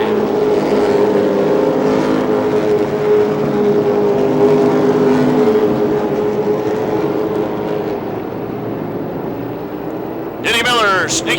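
Late model race cars accelerating at the green flag of a 1989 Rockford feature race, a loud building roar of engines that fades somewhat, with a commentator talking over it and a brief burst of noise near the end.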